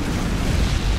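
A Claymore mine detonating in the shooter game Modern Warfare 2, a short heavy low boom with a rumbling tail, loud and close.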